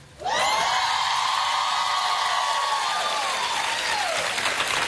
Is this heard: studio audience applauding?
yes